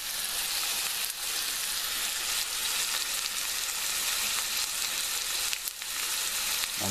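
An onion and mushroom mixture fries in a pan over very low heat, giving a steady, close, continuous sizzle with no talking.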